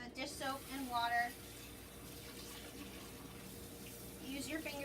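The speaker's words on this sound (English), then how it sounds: "So then go ahead and rinse that off and throw it in the dishwasher." Tap water runs into a sink while a bowl is rinsed, a soft steady splashing with brief brighter gurgles near the start and end and a person talking over it.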